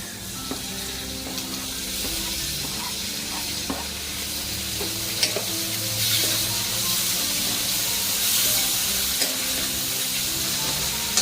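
Browned onion and peanuts fry with chopped tomatoes in a pan for a Maharashtrian varanfal. A loud, continuous sizzle runs throughout, with occasional faint clicks of stirring.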